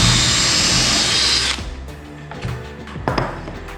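A power drill bores a pilot hole into a small block of wood for a skirting board frame, whining loudly and steadily for about a second and a half before it stops, followed by light handling knocks.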